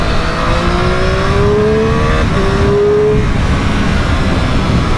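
A Triumph Daytona Moto2 765 motorcycle accelerating hard to overtake a Porsche, its engine pitch climbing steadily through the revs with a brief dip at a gear change, loud and close over steady road and wind roar.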